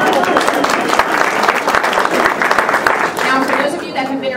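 Applause from a crowd at a resort's 25th anniversary mixer, steady and dense throughout, with some voices mixed in beneath the clapping.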